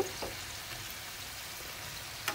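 Iftar snack frying over low heat, a soft steady sizzle of oil holding at a low, even level for a couple of seconds with no voices.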